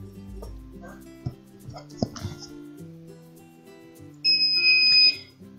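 A timer on a foil press used in cardstock crafting gives one steady high-pitched beep lasting under a second, louder than the soft handling sounds around it.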